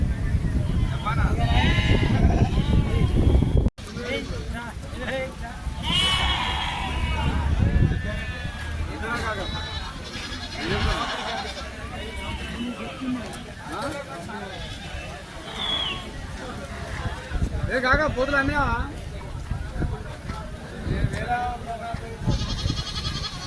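Sheep and goats bleat repeatedly amid a busy crowd at a Sunday village livestock market, their calls rising over constant chatter and background bustle.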